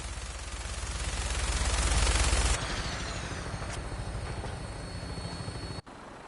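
A Vertibird aircraft from the Fallout 4 video game flies with loud, steady rotor thumping and engine roar, which drop suddenly partway through to a thinner whine and then cut briefly near the end.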